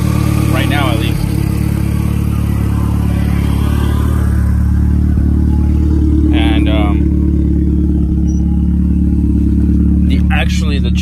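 A straight-piped Volkswagen GTI engine idles with a loud, steady low rumble, while a voice talks briefly over it now and then.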